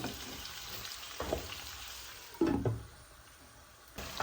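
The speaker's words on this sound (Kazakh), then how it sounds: "Жай отта қуырамыз, бәрін өтте жай отта қуырамыз." Meat, onion and carrot fry gently over low heat in a pan, a soft steady sizzle with a few louder stirring scrapes and clatters, close by with no talking.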